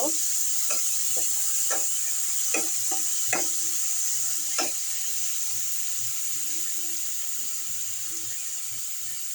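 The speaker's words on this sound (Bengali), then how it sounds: "রসুনটাকে আমি এখন ভালো করে লাল লাল করে ভেজে নিব" Garlic frying in hot oil in a pan, a constant bright sizzle with several sharp clicks and scrapes of a spatula against the pan, close and continuous.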